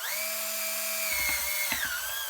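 A power drill fitted with a high-speed steel bit running on scrap for a project box, a steady high whine that drops and stutters as the bit bites in, with a couple of brief grinding bursts.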